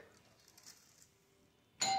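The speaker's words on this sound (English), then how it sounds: "I said stop ringing the bell." A doorbell rings once, loud and close, bursting in sharply after nearly two seconds of near silence.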